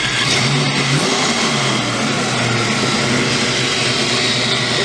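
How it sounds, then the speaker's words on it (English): A big-cam Ford Mustang V8 idles roughly just after its first start, a loud steady lumpy rumble filling the whole stretch with no talk over it. "Little bit rough on idle, but there is a big cam in there"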